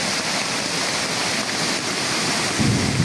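A rain-swollen creek rushes past houses in Barangay Lago, Glan, Sarangani, a loud, dense, unbroken roar close to the microphone, partly buffeted by wind.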